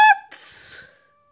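A cat gives a short, close, tonal meow, then a breathy hiss that trails off within a second. No one speaks.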